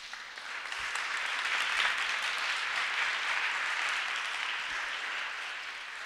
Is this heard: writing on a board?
no